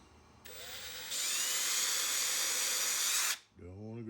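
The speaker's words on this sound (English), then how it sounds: "Let me drill those very carefully. This is a 1/16 inch bit." A 1/16 inch drill bit boring small holes into a CNC-cut wooden game gift box, a steady high-pitched whine that starts, rises in pitch and runs for a few seconds before cutting off, with no talk.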